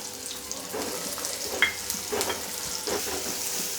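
Chopped onion sizzling in hot oil in a pan while cooking a Malvani-style prawn curry, a steady close crackle with brief spits and stirring scrapes, no voices.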